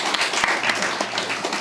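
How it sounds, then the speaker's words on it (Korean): Church congregation applauding during a Sunday service with an infant baptism, a dense burst of clapping filling the room for a short moment, with faint voices mixed in. "박수를 하나 하겠습니다"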